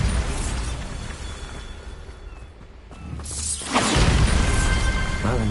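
A Bombarda blasting spell cast in Hogwarts Legacy: quiet rumbling ambience dips, then a loud burst erupts with a crackling, shattering whoosh that stays loud to the end.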